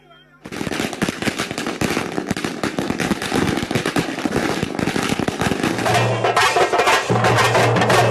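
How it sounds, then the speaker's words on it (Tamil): Dense, loud firecracker bursts crackle in rapid, overlapping volleys as party workers celebrate a new Chief Minister taking office in Tamil Nadu, with continuous popping and a low hum beneath. "முதலமைச்சர் பதவியேற்றவுடன் அதிமுக தொண்டர்கள் பட்டாசு வெடித்தும்"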